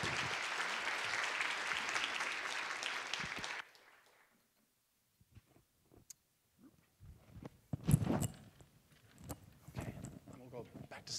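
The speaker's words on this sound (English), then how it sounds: "if we could get a huge round of applause" A conference audience applauds three panelists at a philanthropy event in Canada, a loud sustained round of clapping that stops abruptly, followed by quiet room noise and scattered voices and movement.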